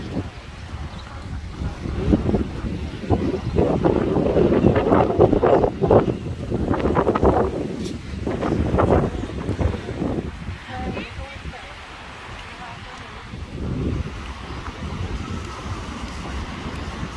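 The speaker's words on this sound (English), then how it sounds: "look guys, I'm at the beach" Waves and wind roll at a beach in Majorca, a broad rushing surge that swells and fades with gusts buffeting the microphone, while someone talks over it.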